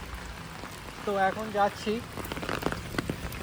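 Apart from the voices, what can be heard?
heavy rain at night in Bombay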